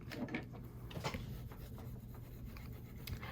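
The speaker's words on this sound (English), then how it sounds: "So I'm burnishing the center only first." A tool rubs and burnishes the center of a paper craft cover for a barn-shaped mini album, making faint, close scraping strokes in an uneven back-and-forth rhythm with no talk.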